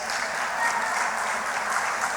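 Steady, dense applause from an audience, even and continuous throughout, moderately loud with no talking over it.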